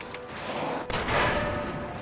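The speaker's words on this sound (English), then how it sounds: "Send a barrage of bullets his way." A dense barrage of gunfire in Fallout 3 roars close and continuous, with a sharp crack near the middle before the volley carries on.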